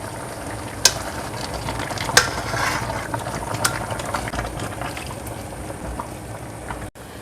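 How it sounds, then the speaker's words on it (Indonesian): A pot of water at a rolling boil during home cooking, a steady bubbling hiss that runs the whole time, with a few sharp clinks of utensils against the pot. "Nah, sebelah sini wes mendidih ya."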